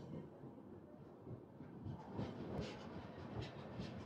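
Visakhapatnam SF Express pulling out of Basar station after a short halt: a low, continuous rumble of moving railcars with soft clattering wheel beats and faint hiss, heard from on board.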